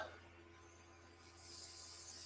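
A soft, steady airy hiss of an airbrush spraying makeup on hair roots and brows that swells louder partway through, with no voices.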